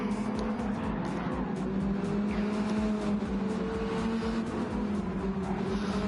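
Race car engines fitted with six Hurricane exhausts roar steadily in a racing video game, a dense, continuous drone of several cars running together with no pauses or voices.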